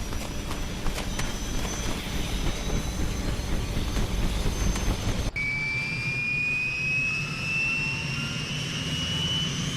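Steady roaring helicopter engine in a Vietnam-era video game, a dense continuous rotor and turbine drone that cuts abruptly midway into a smoother, whining engine tone, loud and unbroken with no talk.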